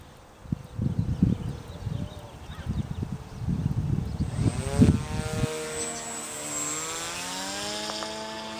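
A drone's propellers buzz and rattle in flight with uneven, pulsing bursts, then the throttle is cut and the sound drops to a smoother, fading whine with falling pitch.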